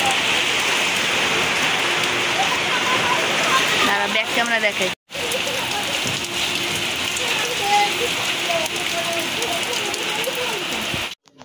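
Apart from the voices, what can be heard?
heavy rain pouring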